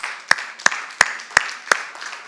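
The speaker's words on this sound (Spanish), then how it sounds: "Me da un aplauso al Señor porque eso lo hizo Dios." A church congregation claps during a Spanish-language service, heard as five evenly spaced, sharp, sparse claps about a third of a second apart over a faint background murmur.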